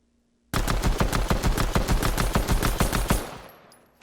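Rapid-fire pistol gunfire in Fortnite, a fast, even burst of roughly twenty loud shots over about three seconds, then a short fading tail; no talking.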